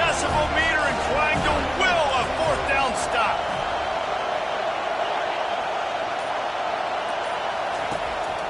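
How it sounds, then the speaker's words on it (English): Packed college football stadium crowd roaring during a 4th down defensive stand, a dense sustained roar with whistles and shouts, loudest at the start and easing slightly, with a voice talking over it early on. "This crowd busting the decibel meter and trying to will a 4th down stop."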